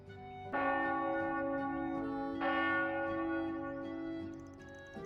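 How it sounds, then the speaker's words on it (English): Church bell tolling one o'clock in the video game Trails Beyond the Horizon, two loud, ringing strikes with long resonant decays and no talk over them. "Ah, the 1 o'clock bell."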